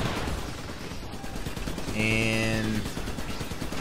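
Rapid bursts from a flak turret in the Iron Brigade video game, aimed at aerial robots, build to a dense volley at mid-distance under steady game noise and brief talk.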